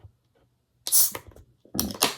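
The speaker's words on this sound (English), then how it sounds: "A really good hiss on that one." A homebrewed fruit beer at 5.4% ABV hisses as the cap is cracked off, giving a loud burst of gas with a second hissy release moments later in an otherwise quiet room.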